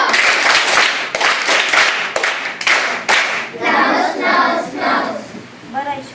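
Schoolchildren in a primary school classroom clapping for a classmate's correct quiz answer: a quick burst of rhythmic, close claps from small hands, followed by children's chatter as the clapping fades out.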